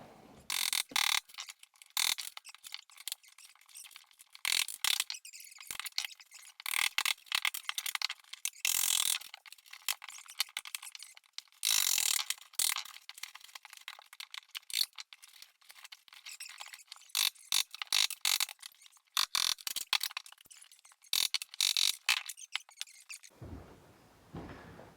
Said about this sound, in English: So now I'm gonna try and pry it up a little bit. Get a pry bar